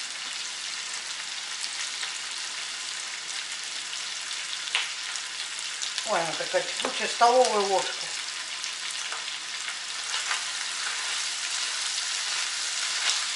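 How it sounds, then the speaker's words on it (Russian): Onion and potatoes fry in a pan with a steady crackling sizzle that runs the whole way through, while someone speaks briefly in the middle. "Лук минут 5 пожарю и все."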